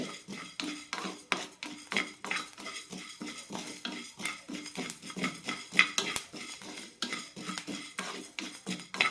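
Rice being dry-roasted for peanut idli podi, stirred and scraped around a pan, giving a steady run of rhythmic scraping and clinking strokes at moderate loudness with no voices.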